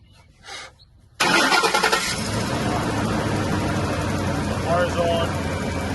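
A Ford F150 pickup engine cranks and catches abruptly after a quiet moment, then settles into a loud steady idle that runs on; a voice speaks briefly over it.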